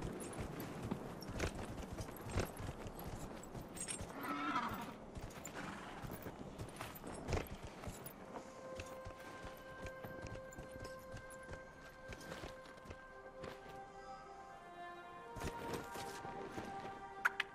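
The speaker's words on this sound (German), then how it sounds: "Ich muss mit dem Pferd hier hoch." In the video game Dragon Age Inquisition, a horse's hooves clip-clop uphill in a fairly quick, uneven rhythm, with occasional louder hoof strikes and a sustained tonal game sound in the second half.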